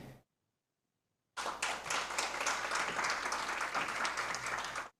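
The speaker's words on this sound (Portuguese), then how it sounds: "O pessoal já aplaude espontaneamente." An audience at a Rio Grande do Sul state registry event applauds spontaneously, a dense, steady wash of clapping that starts after a brief silence and holds loud to the end.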